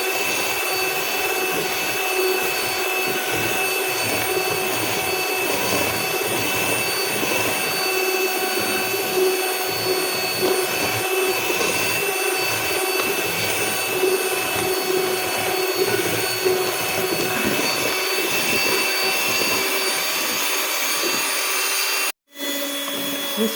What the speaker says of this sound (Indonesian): Disesuaikan dengan mixer masing-masing aja ya